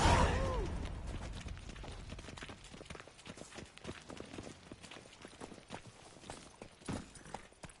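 Horse Roach's hooves in The Witcher 3, a quick run of rhythmic clip-clopping that starts with a louder burst and then settles into a fainter, steady gait.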